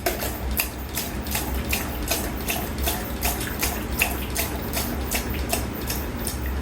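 A Delco Rochester four-grommet three-speed wiper motor runs at low speed with the washer on, giving a steady hiss and whir broken by regular rhythmic sweeping ticks, close and continuous with no talk.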